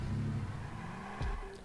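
A truck in the video game Watch Dogs drives with a low engine drone, then its tires briefly squeal and skid near the end, fairly faint and without speech.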